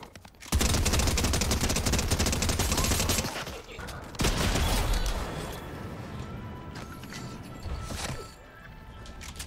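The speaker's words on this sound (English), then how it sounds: "Shotgun, pump action shotgun with a two-shot burst." Pump-action shotgun fire in Fortnite, a loud sudden burst of gunfire with dense rattling impacts for several seconds, then a second burst around four seconds, fading into busy game noise.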